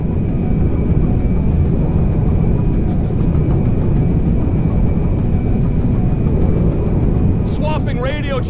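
Meriwether cargo jet landing at Mackenzie Field in GTA 5: a steady, loud engine roar holds for the whole stretch, and a voice cuts in briefly near the end.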